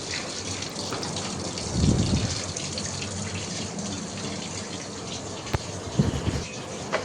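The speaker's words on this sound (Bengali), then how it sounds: "তো এখন সবজিটা কেটে নিয়ে সব কিছু ক্লিন করে এখন ধুয়ে নিচ্ছি।" Cut bitter gourd pieces are rinsed under a running kitchen tap, with a steady close gush of water and some louder splashes and handling as the vegetables are moved in the stream, with no voice.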